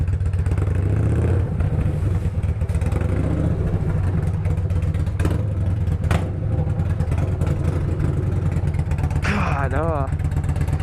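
Yamaha Bolt motorcycle engine running with no muffler, a loud, close, raw rumble that throbs steadily throughout, with a sharper rev near the end and a voice speaking briefly over it.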